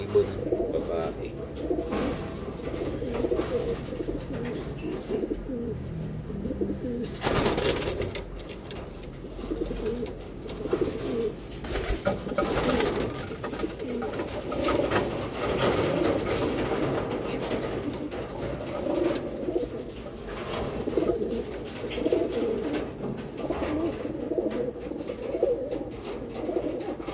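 Pigeons coo steadily in a low, repeating murmur throughout, with a few brief louder bursts of fluttering or rustling mixed in.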